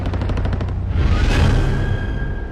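Machine guns fire in a naval air battle at Midway: a rapid burst of close, loud shots gives way to a heavy rushing roar and a sustained whine, with no voices.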